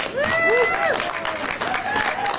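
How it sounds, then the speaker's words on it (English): Crowd applause for a San Francisco teachers union at a civic rally, steady clapping mixed with whistles and cheering voices throughout. "a big round of applause to our teachers union, UESF"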